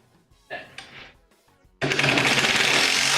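A drill drives pocket hole screws into wood while building a miter saw station in a shop. Faint, brief whirring bursts come first, then a loud, sustained, gritty driving noise runs close up to the end.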